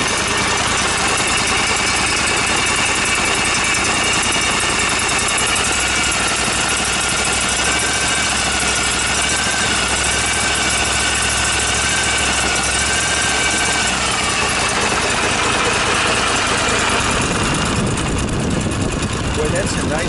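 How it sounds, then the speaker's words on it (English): Kohler CH740 small engine running at a steady idle near the listener, constant and fairly loud, with a voice over it before the sound changes near the end. "Boy, that's a nice running little engine."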